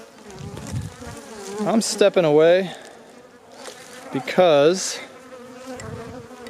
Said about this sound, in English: a bee stung my camera